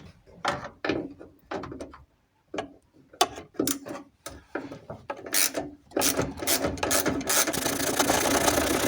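A ratchet backs out 8mm screws holding the door strap on an Alfa Romeo 33 1.7 16V, giving close, quiet bursts of quick clicking separated by short pauses, then a faster, continuous run of clicks near the end.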